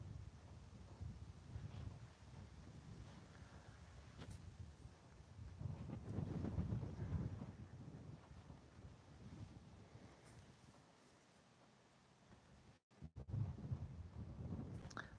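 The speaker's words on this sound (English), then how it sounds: "You can really hear the wind starting to pick up." Wind picking up around a microphone, a low rumbling gusty roar that swells and fades in waves, mostly faint with stronger surges and a brief dropout near the end.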